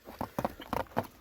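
A six-year-old grey horse bred for ulak (goat-dragging) games clip-clops along, with four or five soft, evenly spaced hoof strikes close by and no talk over them.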